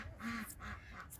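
Backyard ducks quack in a few short nasal calls, close and fairly soft, with faint chatter from other fowl in the background.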